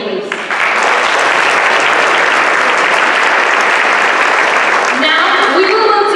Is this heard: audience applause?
yes